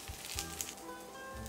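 Brinjal slices frying in mustard oil on a tawa, a steady soft sizzle with faint crackles and a few low thumps, heard close and alone without talk.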